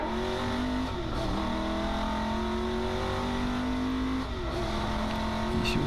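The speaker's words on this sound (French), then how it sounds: "on remonte tous les rapports." Race car at Magny-Cours during a V de V Endurance Series round, engine loud and close as it pulls out of a hairpin and climbs through the gears, pitch rising then dropping with each upshift.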